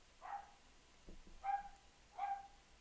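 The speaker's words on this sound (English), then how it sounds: "if the dog's gonna be barking all crazy in the background" A dog barks in the distance, three separate barks at a steady pace, faint and yelping, with a brief low thump between the first two.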